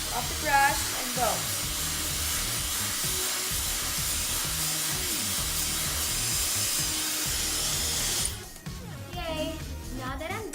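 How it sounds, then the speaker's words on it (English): A handheld hair dryer roars steadily while blow-drying a fringe with a brush, a continuous broadband hiss that drops and shifts near the end, with a person talking over it throughout. "Now that I'm done blow drying, I will always run cold air through it"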